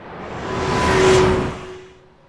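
A Thor's hammer sound effect processed with the Waves Doppler plugin sweeps past as a single whoosh, swelling to a peak and then fading away, heard alone.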